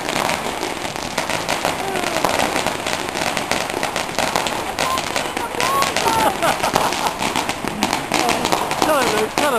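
Firecrackers crackle in rapid machine-gun bursts on a Beijing street at night during a New Year fireworks frenzy, a dense continuous barrage, loud and near with more further off, while people talk over it.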